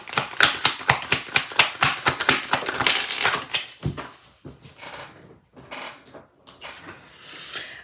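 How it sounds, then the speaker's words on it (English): Tarot cards being drawn and handled, a rapid run of crisp flicks and snaps as the deck is riffled, then slower, softer rustles and shuffles of the cards, close and fairly loud with no talk. "I'm getting a few more tarot cards."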